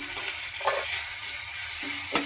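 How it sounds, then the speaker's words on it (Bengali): Chopped ginger goes into a hot dal tempering with whole garam masala, dried chilli, bay leaf and turmeric, and spits in a brief soft sizzle with light crackles, close and alone. "এবারে আদাটা দিয়ে দিলাম"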